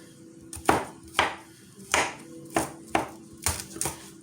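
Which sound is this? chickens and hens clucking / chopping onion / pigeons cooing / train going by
chopping onion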